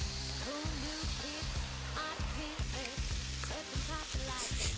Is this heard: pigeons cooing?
no